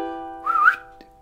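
A person whistles a short rising-and-falling tune, clear and close, alone for about a second before a faint click.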